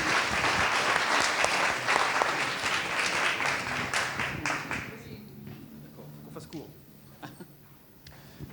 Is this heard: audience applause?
yes